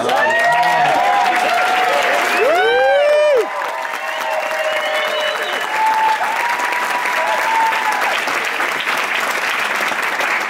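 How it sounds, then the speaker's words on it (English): An award-ceremony audience gives a sustained round of applause for a guest at a playwright award, steady dense clapping throughout with brief bird-like whistles or chirps early on. "We can give him a round of applause."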